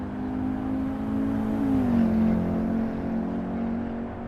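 An Audi Quattro engine in the racing game Assetto Corsa on the Nordschleife, a steady sustained drone that dips and shifts in pitch midway, as if through a gear change, with no voices over it.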